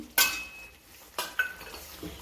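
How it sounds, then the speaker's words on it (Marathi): Sesame seeds dropped into hot tempering oil while cooking a mixed vegetable bhaji: two sharp crackling bursts about a second apart, followed by a lighter clink of a utensil, close and clear with no talking. "तर आता मी फोडणीमध्ये पण थोडे तीळ टाकते आणि वरून पण थोडे तीळ टाकते."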